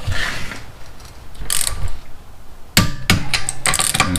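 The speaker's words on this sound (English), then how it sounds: "Tightening the lug nuts to 79 foot-pounds." Lug nuts on a 2003 Honda Accord wheel are tightened with a torque wrench: close, loud ratcheting clicks and metallic clunks come in two quick clusters, with no talking.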